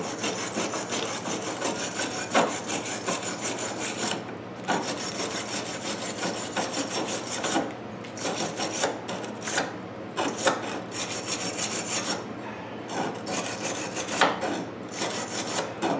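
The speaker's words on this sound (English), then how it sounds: "I grounded around the screw holes on the grinder" A grinder works on metal around the screw holes of a muffler pipe for a DIY generator exhaust, a loud continuous rasping scrape with brief pauses and shifts in intensity, close up and without talk.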